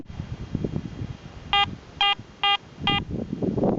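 A Garrett AT Gold metal detector sounds over a solid brass cone-shaped fitting at an 1890s ghost town: four short, evenly spaced electronic beeps ring out clearly over low outdoor rumble and handling noise.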